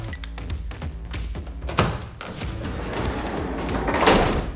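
A Slick Lock is pulled out and the door of a RAM ProMaster van is opened, giving a series of metallic clicks and clunks followed by a heavy thump and a sliding rumble, close and loud.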